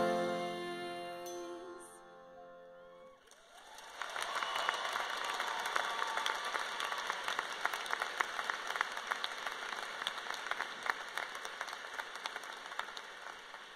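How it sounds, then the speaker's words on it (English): A graduation audience at Fort Collins High School breaks into applause for the performers after a song's final sustained notes fade, the clapping swelling into a broad, steady wash of many hands across the hall. "Please join me in another round of applause for our performers today."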